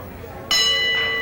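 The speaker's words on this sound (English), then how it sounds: "We should soon have the bell." A boxing round bell rings once partway through, sharp and bright, then rings on and sustains over faint background crowd noise at a bout between Refugio Flores and Craig Fossett.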